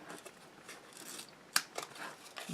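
Scissors trim book cloth on an album cover, giving a few faint snips and one sharper, brighter cut in the middle over quiet rustling of the material.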